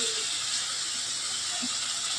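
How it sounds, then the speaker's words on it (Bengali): Onions frying in a pan while chicken is being cooked, a steady broad sizzle and hiss held at an even level throughout, close and continuous with no talk over it. "পেঁয়াজ ভাজা হচ্ছে"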